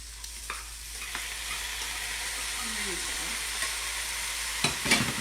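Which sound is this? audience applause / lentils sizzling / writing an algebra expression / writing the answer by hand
lentils sizzling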